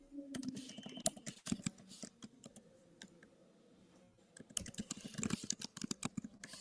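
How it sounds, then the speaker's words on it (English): Bursts of rapid computer-keyboard typing, close and fairly faint, with clustered clicks at the start and end separated by a quieter pause. "Oh, I can hear her typing now."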